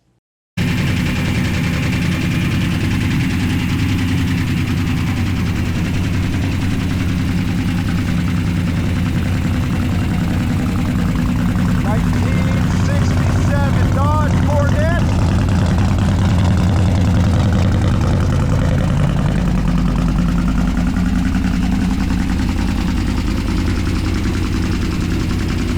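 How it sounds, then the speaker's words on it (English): A 1967 Dodge Coronet 440 with a big-block V8 runs loud and steady, a deep continuous rumble that holds throughout with slight swells, heard close and alone. "440 big block, nice and loud."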